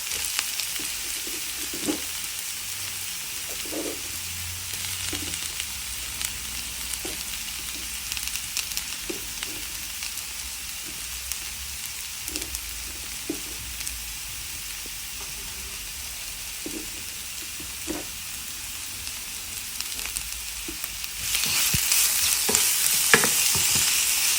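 Mushrooms stir-fried in a hot pan, a continuous sizzle with repeated scraping stirs of the spatula, growing louder and brighter near the end; no one speaks.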